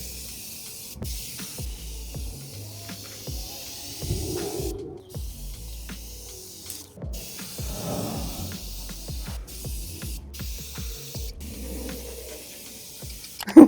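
An aerosol can sprays into a large crack in a house wall to keep mice out, several short hissing bursts with pauses between, close and moderately loud.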